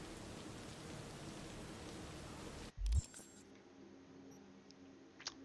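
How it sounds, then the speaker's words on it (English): Steady rain in the video game Cyberpunk 2077, a dense hiss of falling drops that cuts off abruptly partway through, leaving a quieter ambience with a few faint taps. "Now, I know it's raining, and normally I wouldn't ride a bike in the rain"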